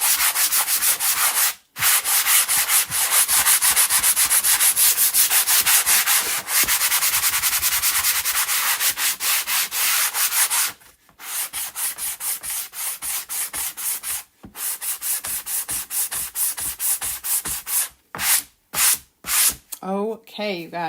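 Steady scratchy rubbing of sandpaper over a dry wooden sled, close and continuous, with a few brief pauses and short strokes near the end.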